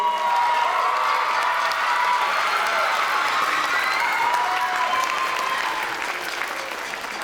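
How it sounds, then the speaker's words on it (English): Audience at an evening school event for elders and a children's song applauds steadily, a dense, sustained wash of clapping from many hands that holds level and eases slightly toward the end. "And if we can give a round of applause for Senora Weaver also"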